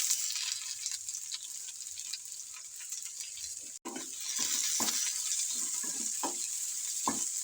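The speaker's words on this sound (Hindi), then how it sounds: "प्याज को 1 से 2 मिनट हम इसमें अच्छी तरह से फ्राई करेंगे ऑयल में" Onions sizzling in hot oil with garlic in a pan, a steady bright frying hiss with occasional stirring clinks and scrapes, close and moderately loud, no talking.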